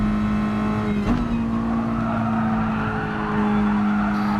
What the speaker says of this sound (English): So although we've got a lot of tyre squeal there